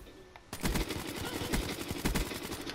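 Sniper gunfire in a video game bursts in suddenly after a brief quiet moment, a rapid series of sharp, loud cracks and booms repeating over about two seconds.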